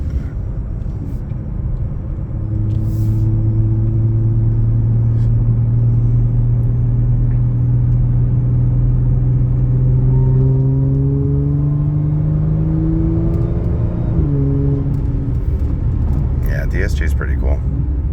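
An Audi S4 B8.5 with a DSG gearbox holds a long, loud engine note that rises gradually in pitch, dips briefly at a shift, then settles, while someone talks over it.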